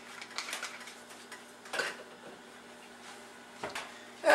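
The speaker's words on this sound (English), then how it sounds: "Just gently stir this," Stirring sauce in a saute pan with a utensil, faint scattered scrapes and light clinks against the metal, with quiet gaps and a louder clatter at the end.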